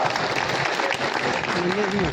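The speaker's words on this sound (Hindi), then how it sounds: "उनके लिए जरा जोरदार तालियां बजावा" An audience at a Congress party rally gives a dense, sustained round of applause for journalists, with voices talking over the clapping.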